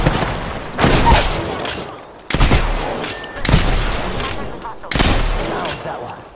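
Four heavy gunshots in Apex Legends boom out at roughly regular intervals, each a sharp loud blast with a decaying tail, while a player talks faintly underneath.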